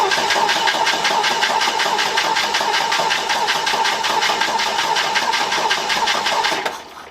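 An International Harvester Scout 80 engine cranks with a rapid, rhythmic churning that runs loud and steady, close up, then cuts off abruptly at the end.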